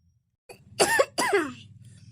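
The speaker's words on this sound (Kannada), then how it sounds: "ಈ ಹಿಂಗ ಕಕ್ಕ ಕಕ್ಕ ಕೆಮ್ತಿಯಲ್ಲ" Two quick, harsh coughs close by, one right after the other, followed by a brief low rumble of background noise.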